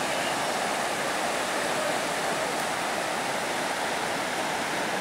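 Floodwater from an overflowing river rushes across a road near Cloghroe, Cork, a dense, steady roar of flowing water that stays constant throughout.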